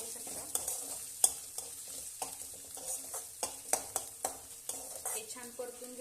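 Chopped green chillies sautéing in a pan for a Maharashtrian potato bhaji: a soft, steady sizzle broken by regular sharp scrapes and taps of a spatula stirring, with no talking.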